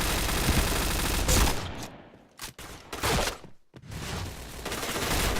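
Rapid bursts of gunfire in the online shooter Point Blank, dense automatic volleys that break off in short gaps and resume, loud and close with no talk over them.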